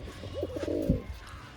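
Pet pigeons offered by a Bengali breeder give a short, soft throaty coo, close and alone against a quiet background.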